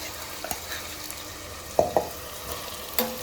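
Mutton dropped into a hot pan for mutton pulao fries with a steady background sizzle, with a few sharp clanks and scrapes of stirring spread across the clip and no talking.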